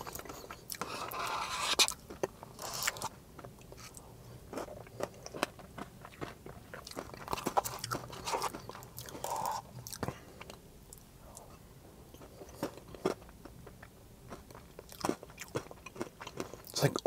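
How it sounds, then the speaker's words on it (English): Close, crisp crunching and biting while eating a UK McDonald's dessert with Oreo bits, chocolate buttons and sauce, with irregular bites and chewing at a soft, intimate level. "It's like Oreo bits and like chocolate button, like galaxy chocolate button things, and some delicious sauce."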